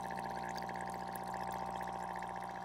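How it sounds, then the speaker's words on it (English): Water drains steadily through a PVC hydroponics system with air bubbling in it, a continuous even gurgling and rushing flow heard close up with no voices. "the water is draining"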